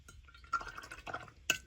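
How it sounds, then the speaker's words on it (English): Paintbrush swished and rinsed in a water container while painting leaves, a soft watery stirring with a few light clinks against the cup, close and quiet, no talking. "rinse my brush, pat it."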